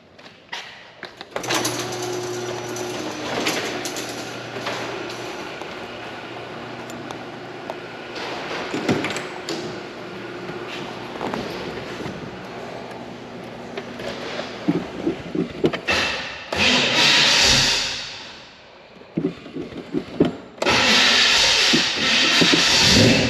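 A 1964 Chevelle SS convertible's engine fires up cold with no warm-up, catching into a loud, rough, continuous rumble close by that wavers and surges, with a few revs and sharp bursts toward the end.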